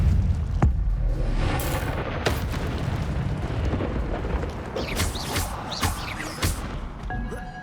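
Incendio fire spells are cast in Hogwarts Legacy amid combat, bursting in repeated whooshing blasts and booms over continuous crackling battle noise, with several sharp impacts spaced through the fight.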